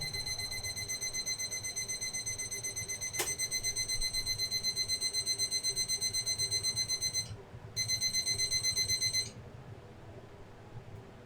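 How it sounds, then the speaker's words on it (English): An electronic alarm in a home kitchen beeps in a fast, steady, loud pulse for several seconds, stops briefly, resumes, then cuts off. "Sorry for the beeping."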